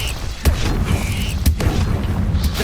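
Bombarda spell blasts in the video game Hogwarts Legacy, two sharp explosive bursts about a second apart over a steady low rumble of game ambience.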